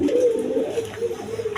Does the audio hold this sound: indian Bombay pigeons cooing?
yes